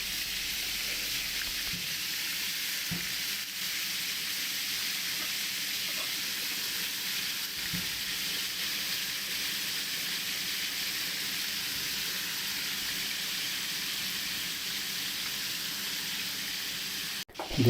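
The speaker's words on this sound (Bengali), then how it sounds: "চিকেনটা আমি খুব একটা ফ্রাই করব না, অল্প করেই ফ্রাই করে নেব।" Chicken pieces fry in a pan for green chicken fried rice, producing a constant, even sizzle with faint stirring knocks, ending in a brief clatter at the close; no voices.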